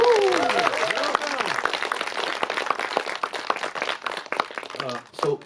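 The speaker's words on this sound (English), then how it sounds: "One more round of applause." Audience applause for director Mike Leigh at a film festival master class, a dense ongoing clapping throughout with a voice speaking over it early on and the applause thinning near the end.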